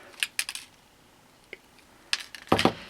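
Wire is snipped while making a guitar string ring, giving a handful of small, sharp metallic clicks spaced irregularly. A cluster of louder snips comes near the end against a quiet background.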